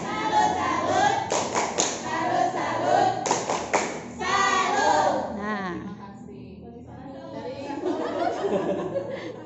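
A classroom group at a madrasah in Rancabogo performs the rhythmic 'tepuk salut' clap chant during a problem-based learning lesson, with sharp bursts of claps mixed with children's voices and chatter, loud and close.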